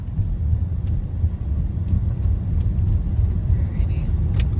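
A Dodge Journey R/T all-wheel-drive SUV driving on winter roads, its steady, loud low rumble of engine and tires heard from inside the cabin, continuous with no breaks.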